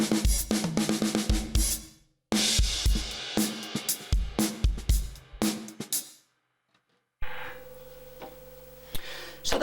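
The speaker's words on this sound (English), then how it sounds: "We've got a drum fill into a kind of another stop where the groove stops at that 1/8 note and then comes" Drums play a groove and fill from a song: close, crisp hits in quick bursts that stop twice for brief silences, then a quieter, steadier section with a hum beneath.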